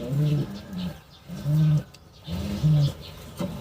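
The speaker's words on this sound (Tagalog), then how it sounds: "Ito mga kalapatids, pakita ko sa inyo kung pang ilan si Uno." Racing pigeons coo nearby in three clear, rhythmic bursts of low throaty calls, with no talking.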